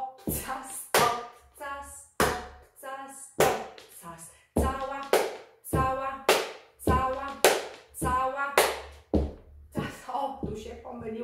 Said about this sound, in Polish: Niepotrzebnie wprowadziłam klaskanie.